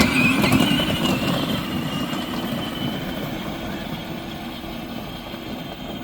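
Steady motor whine and rolling rumble from a Dynacraft 24V Realtree ride-on toy Jeep driving at full throttle, loud and continuous throughout, with no talking.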